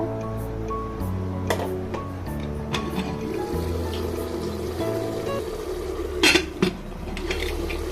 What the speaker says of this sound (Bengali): ভাতটা আমার ছেঁকে নেওয়া হয়ে গেছে